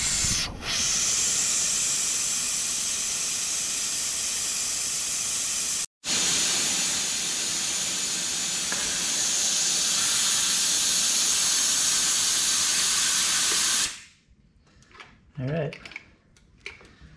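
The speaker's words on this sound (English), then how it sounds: "Hook an air hose up to it. And just pull the trigger." Compressed air rushing through an air hose and trigger tool fitted to a bleeder screw on an 80 Series Land Cruiser. A loud, continuous hiss breaks once for a moment, resumes, then stops, followed by light clicks and handling noises.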